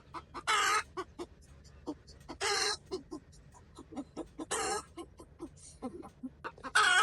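A chicken clucks and squawks in loud, harsh bursts, close by, with quieter clucking and shuffling between them.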